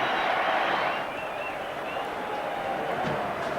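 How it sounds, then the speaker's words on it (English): A football crowd at Ayresome Park gives off a dense, continuous roar of voices at a distance, slightly louder at first and then settling into a steady hum. "Listen to the crowd."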